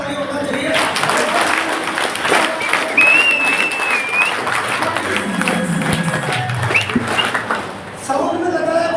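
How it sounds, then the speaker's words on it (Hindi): Audience at a marketing company meeting in Kukshi, Madhya Pradesh claps steadily and loudly, with a voice and music-like tones mixed in over the applause. "तो सामना के लिए जोरदार ताली होना चाहिए।"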